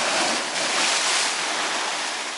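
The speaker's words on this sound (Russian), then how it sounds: "Вроде бы море условно спокойное, но все равно вот есть волнение, пир заливает иногда" Winter Black Sea waves wash over a pier in a steady, loud rush of surf and spray that swells and eases slightly, heard close with wind noise on the microphone.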